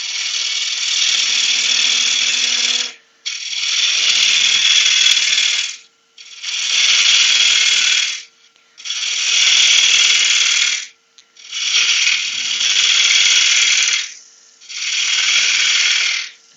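Cherry wood bowl being roughed out on a lathe, the gouge throwing big shavings in six long bursts of harsh scraping cutting noise with short pauses between, loud and close, no talking.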